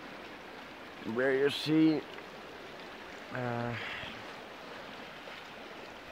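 Freezing water of the Indus River at Deosai rushes in a steady broadband wash with wind buffeting the microphone, while someone talks briefly over it in two short bursts.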